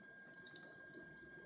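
A tap runs with low water pressure, giving a faint, thin, steady trickle with small irregular spatters and no voices.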